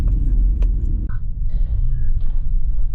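A 2015 Subaru Impreza with all-wheel drive and a CVT corners on the road, heard from inside as a constant low engine and road rumble with a few faint clicks and squeaks from the cabin.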